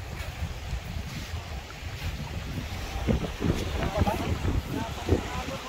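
Waves wash and surge against a steady windy roar outdoors, with voices talking over the rushing water.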